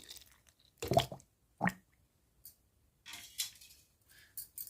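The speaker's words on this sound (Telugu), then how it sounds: "కాసినన్ని వాటర్ యాడ్ చేద్దాం" Water is added to ground cream in a mixer jar while making ghee, producing a few short, soft splashes and squishy plops separated by quiet gaps, close and faint overall.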